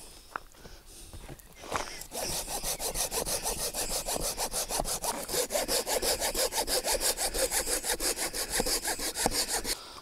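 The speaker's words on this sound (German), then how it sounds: "Ein bisschen Holz schneiden." Wood is cut with a hand saw during a solo overnight camp, a steady run of quick back-and-forth strokes, close and loud, after a few soft knocks at the start.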